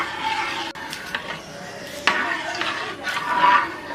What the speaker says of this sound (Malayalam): ഇത് നന്നായിട്ടൊന്ന് ഇളക്കിയെടുക്കുക.